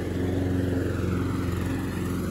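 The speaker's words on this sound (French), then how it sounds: "Et là, c'est papa qui arrive avec" A petrol lawn mower engine drones steadily close by in a home garden, a continuous low motor hum without clear revving.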